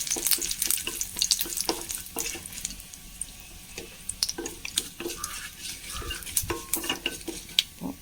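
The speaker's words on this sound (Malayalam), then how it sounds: "കുറച്ച് വെളിച്ചെണ്ണ ഒഴിച്ച് കടുകും ഉലുവി ഇട്ട് കൊടുത്തിട്ടുണ്ട് അതിലേക്ക് രണ്ട് ഉണക്കമുളകും മറ്റു കറി ഇട്ട് കൊടുത്തിട്ടുണ്ട്" Mustard seeds, fenugreek and dried chillies frying in coconut oil, giving a close, steady sizzle with rapid crackling pops and occasional clinks of a spoon or pan throughout.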